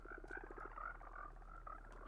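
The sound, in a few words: frogs croaking in Minecraft 1.19 (video game)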